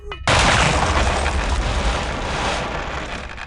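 A grenade blast in Return to Castle Wolfenstein sets off a sudden loud boom that sustains as a dense, rumbling roar for several seconds before slowly fading.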